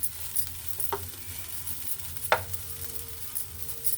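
Okra sizzles softly in a pan for an okra curry-leaf chilli fry, a faint steady frying hiss with two short sharp scrapes or taps.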